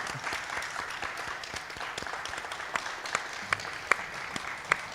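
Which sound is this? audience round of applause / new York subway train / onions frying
audience round of applause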